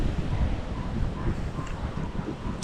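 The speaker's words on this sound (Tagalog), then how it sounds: "ngayon nung bumalik ang hangin niyang kulit, alon na naman" Steady wind buffets the microphone over the open sea, with a low rumbling wash of waves beneath it; a continuous, fairly loud roar with no voices.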